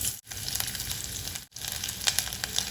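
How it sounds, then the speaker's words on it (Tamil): Sliced onion fries in hot oil with curry leaves in a pan, giving a steady close crackling sizzle that runs throughout, broken by two brief dips where it is stirred. "இப்போ நம்ம இந்த வெங்காயத்தை நல்லா பொன்னிறமாக வதக்கி எடுத்துக்கலாங்க."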